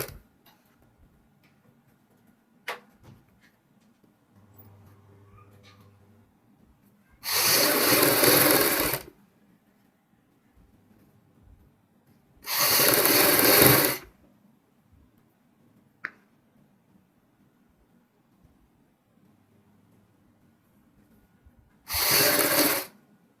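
A sewing machine stitches the double collar of a kurti, folded on the buckram side, running in three loud bursts of about one to two seconds each, separated by quiet gaps with small clicks.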